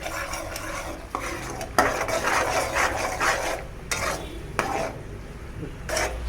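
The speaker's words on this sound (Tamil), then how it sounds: "அந்த வரைக்குமே நம்ம இதை நல்லா மிக்ஸ் பண்ணி விடணும்" Spoon or spatula stirring a thick syrup mixture for homemade peanut candy in a pan, a steady scraping rhythm with sharper clinks of utensil on metal, close and moderately loud, with no talking.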